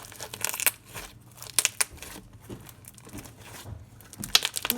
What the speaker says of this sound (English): Elmer's glue slime. Yeah. It's really satisfying.